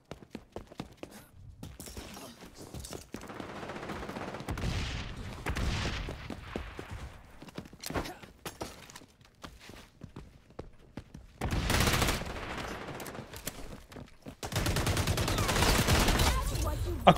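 Gunfire in the XDefiant video game on PC: bursts of rapid shots and louder sustained volleys at close range, separated by quieter gaps, with game effects mixed in.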